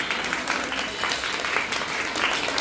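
Audience at a school Independence Day celebration applauds, a steady dense patter of many hands clapping at moderate distance, no voices over it.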